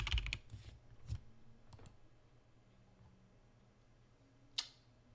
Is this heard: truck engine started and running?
no